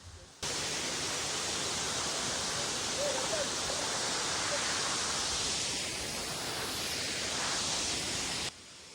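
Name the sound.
Jhari waterfall, Chikmagalur, Karnataka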